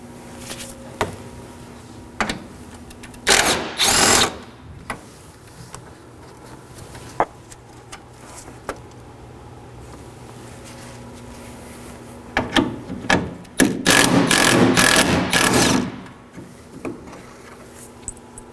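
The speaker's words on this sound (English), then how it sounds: "Now I'm going to remove two 10mm bolts." A ratchet works 10mm bolts loose in the engine bay of a 2013-2019 Nissan Sentra, giving close, loud bursts of rapid clicking ratcheting with scattered taps and handling noises between them.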